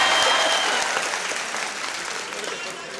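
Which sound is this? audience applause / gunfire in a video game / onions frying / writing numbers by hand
audience applause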